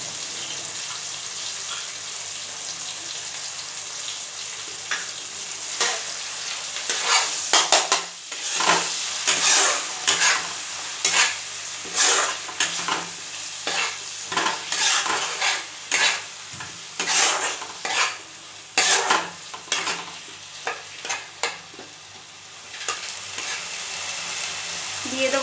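Ground spices for a jackfruit curry fry in a pan over low heat, giving a constant close sizzle broken by repeated scraping strokes of the stirring spoon, with no talking.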